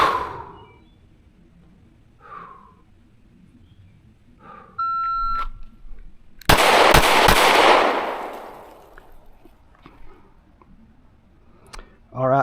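Three pistol shots from a Canik Prime during a qualification drill at 5 yards, fired in a quick close burst after a shot-timer beep and some brief talk, followed by ringing reverberation.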